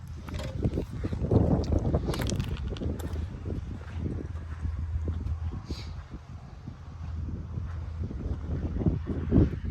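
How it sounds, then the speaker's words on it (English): Gusty wind buffeting outdoors, rumbling low and uneven across the whole stretch, rising and falling in strength. "Windy out here today, cold front coming in and rain."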